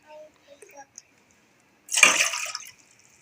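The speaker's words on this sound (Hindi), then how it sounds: "अभी मैं सॉस पैन में जो है 1/2 लीटर जो है पानी डाल रही हूँ।" Half a litre of water, about two cups, poured into a saucepan for black tea: a short, bright splashing burst lasting under a second, close by, following a few faint kitchen clatters.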